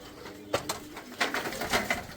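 Pigeons coo softly in a few short, low, muffled bursts, fairly faint against a quiet background.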